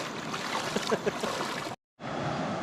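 River water flows with a steady, broadband rushing wash near Cigugur, Pangandaran, fairly close and even in level. The sound cuts to silence for a moment, then continues.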